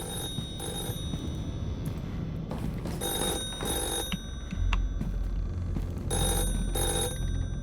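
An old-style telephone bell rings in the horror game The Floor Is Breathing, repeated bursts of ringing in a regular pattern over a low, rumbling ambient drone, with no speech.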